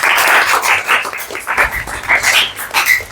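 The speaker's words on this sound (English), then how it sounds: "Give applause." A classroom group applauding during an English lesson, steady rapid clapping from many hands that swells and dips for about three seconds, fairly close, with no talk over it.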